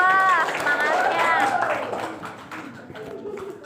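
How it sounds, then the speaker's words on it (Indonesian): A school class claps for group 2 in a classroom, a burst of hand claps with cheerful voices calling out at the start before the clapping thins and fades into chatter. "Kasih tepuk tangan buat kelompok 2."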